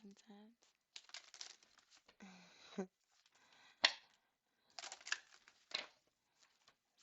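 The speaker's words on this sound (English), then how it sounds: "I shuffle till my heart says ready." Quick bursts of cards being shuffled and riffled, several short crackling runs separated by pauses, close and fairly quiet, with a brief voice at the start.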